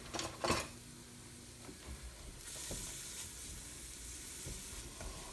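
Onions sizzle and get stirred in a hot pan, with a faint frying hiss. A few utensil scrapes and clinks come at the start, then a steadier sizzle builds in the second half.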